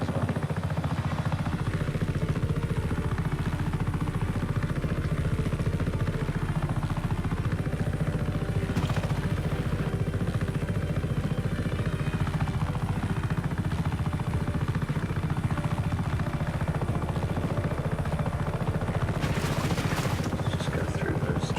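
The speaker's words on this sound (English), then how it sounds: "Helicopters are so easy to fly as well." Helicopter flying in the video game Just Cause 3, a continuous loud rotor thrum and engine whine with pitch rising and falling as it maneuvers, someone talking over it at times.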